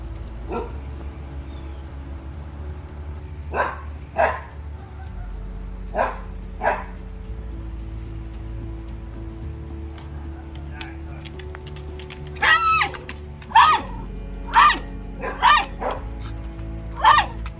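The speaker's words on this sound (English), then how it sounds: "Our neighbor's dogs are always barking at them." Neighbour's dogs barking outdoors, scattered single barks and short yips in bursts, fairly close and loud, with a steady low hum underneath and a quieter stretch between the early and later volleys.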